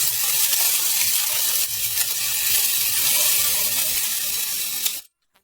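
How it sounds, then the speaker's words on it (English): Fish coated in sauce sizzling over a charcoal grill outdoors in a jungle setting, a continuous close hiss and crackle of dripping oil that cuts off abruptly near the end. "places it on the charcoal, grilling until it sizzles with oil"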